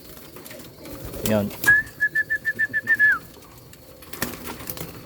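Hungry pigeons in a loft at feeding time give a close, rhythmic run of about eight pulsing coos, with a few brief spoken words nearby.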